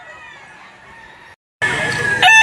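Chickens and roosters at a morning chicken auction market in Lipa, Batangas, several loud crowing calls up close, a short break, then a busier, louder burst of crowing and clucking.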